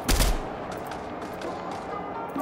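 Gunfire in the video game Fortnite, with a sharp loud burst at the start followed by a dense, continuous wash of game sounds and faint distant shots.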